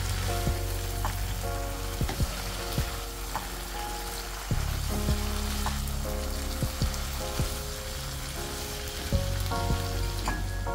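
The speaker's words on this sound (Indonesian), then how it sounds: "Ini lanjut aja kita aduk lagi setelah ditambahkan garam, penyedap rasa. Kita masak sampai benar-benar pakisnya matang dan bumbunya meresap." Fern stir-fried with squid and tuna in a pan sizzles steadily and close, with repeated sharp clinks and scrapes of the stirring utensil against the pan and no talking.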